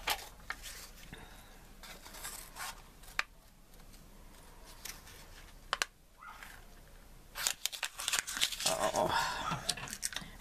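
Scissors trim a cardstock card piece with crisp, intermittent snips and paper rustles, quiet and close, louder crinkling toward the end.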